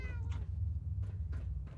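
A cat in the video game Fallout 4 meows, a clear tonal cry at the start followed by a few shorter, fainter mews over a low background hum, no speech.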